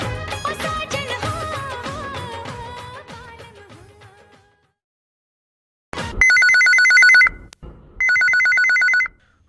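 Telephone bell rings out in two long, loud bursts on a phone-in request radio show, coming just after a fading song ends and a brief silence.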